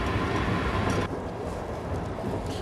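The Orient Express rolls along with a steady low rumble and rocking rattle of the carriage, continuous and close, with a slight shift in tone partway through.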